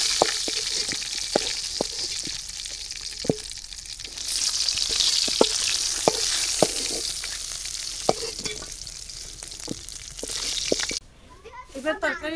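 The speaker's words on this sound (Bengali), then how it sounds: "একদম করকরা করে ভাজবি না।" Hilsa fish frying in a pan of hot oil, a steady close sizzle with crackles and clicks of a spatula or utensil against the pan, the hiss swelling midway before cutting off near the end.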